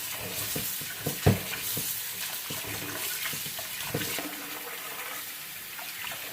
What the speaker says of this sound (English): I'm gonna go ahead and wash my rice